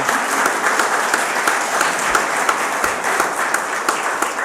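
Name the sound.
audience applause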